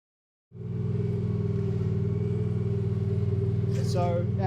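Walker ride-on lawn mower engine running while working on a slope, a steady loud idle-like drone starting abruptly after a brief silence and holding constant, with a short voice near the end.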